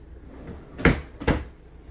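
Two small drawers in a fifth-wheel RV kitchen slide and knock shut, a pair of sharp, close wooden clunks about half a second apart in a quiet room.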